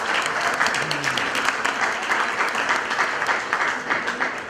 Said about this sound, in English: So a round of applause for Jim Demetrio.